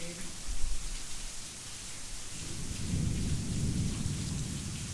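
Steady rain hisses outdoors at a wildlife enclosure, and a low roll of thunder swells in beneath it during the second half and rumbles on.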